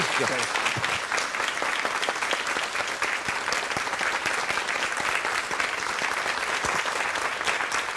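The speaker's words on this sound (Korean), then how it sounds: "박수로 맞이해 주시기 바랍니다" Steady applause from a sizable audience in a packed lecture auditorium, dense clapping continuing evenly throughout without pause.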